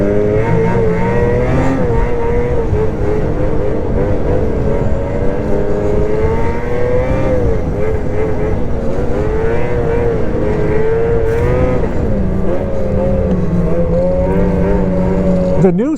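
Ski-Doo XRS 600 snowmobile engine running steadily as it pulls the sled across snow, a loud, continuous droning hum with slight shifts in pitch throughout, with no voices over it.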